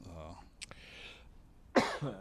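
A single short cough rings out near the end, close and moderately loud, with brief murmured voices before and after it.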